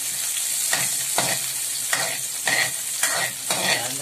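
Onion frying in hot oil for chicken sisig, a loud close sizzle broken by regular stirring scrapes about every half second.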